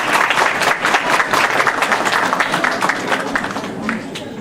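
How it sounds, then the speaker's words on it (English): A community crowd claps loudly to welcome a senior attorney to the stage, with dense, slightly uneven applause lasting throughout and people's voices mixed in beneath the clapping. "So please give a loud applause"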